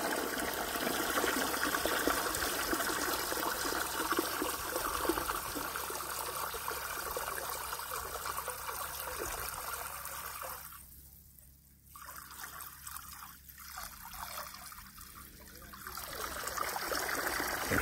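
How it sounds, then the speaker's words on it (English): River water runs and trickles into a drum for garden irrigation in Jamaica, a steady close stream that dips briefly near the end as the flow is shifted, then resumes; no speech is heard. "Filling up this drum."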